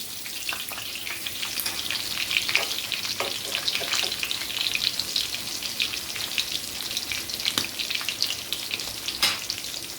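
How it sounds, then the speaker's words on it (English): Chicken frying in a pan, with a constant bright sizzle and scattered crackling pops, close and steady with no talking. "The chicken is frying up nicely and golden brown."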